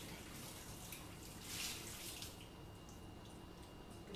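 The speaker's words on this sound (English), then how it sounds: "Now it's just a simple matter of getting rid of the water of my dried chilies." Soaking water drains from a batch of dried chilies into a kitchen sink, a quiet, steady pour and splash running continuously, with a brief louder gush partway through.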